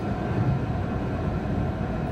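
A Stadler Flirt passenger train runs on the line from Praha to Přerov, heard from inside the driver's cab as a constant low rumble and rolling drone, steady and close, with no talking.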